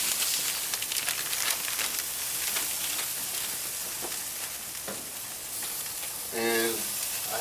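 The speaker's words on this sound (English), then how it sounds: "I'm going to go ahead and put this ham steak on the grill." A ham steak sizzles steadily on a grill, a close, continuous broadband crackle and hiss that holds throughout, with a brief tonal scrape or squeak near the end.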